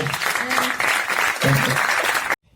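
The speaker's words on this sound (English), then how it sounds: "A big applause, please, for..." A short burst of applause at a business school pitch event, under a speaking voice, lasting a couple of seconds and then cutting off abruptly.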